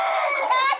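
Free-range desi chickens cluck and crow sharply and close by at a high-tech poultry farm, with several overlapping calls filling the short stretch and no talking.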